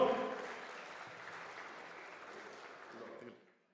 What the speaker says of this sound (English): can we all give a big round of applause to all the teams from everywhere